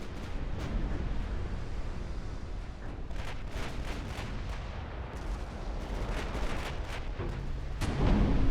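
Battleship 11-inch naval guns firing in the naval game UAD, a dense rumbling barrage of booming shots and distant impacts, loud and continuous, with a heavier blast near the end.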